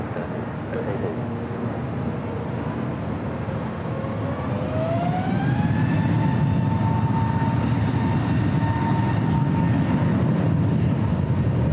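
An airliner takes off from runway 24 left at LAX, its engines rising into a loud, sustained roar with a climbing whine that builds and then holds steady, with other airport noise around it.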